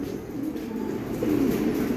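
Several pigeons coo softly close by with low, rolling, overlapping calls, accompanied by faint background shuffling.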